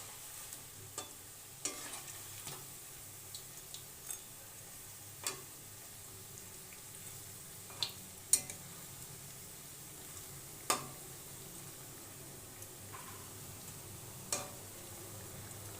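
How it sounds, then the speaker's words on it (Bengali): Cauliflower pakoras deep-frying in oil over medium heat, a soft continuous bubbling sizzle broken by sparse, sharp ticks and taps of a utensil against the pan, no voices. "আঁচটা মিডিয়ামে দিয়ে পকোড়াগুলো ভেজে উঠিয়ে নেব।"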